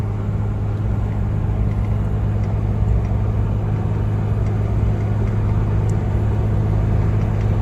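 A Toyota HJ61 diesel engine cruising on the road, a constant low droning rumble with steady road noise, loud and unbroken from inside the vehicle, no voices.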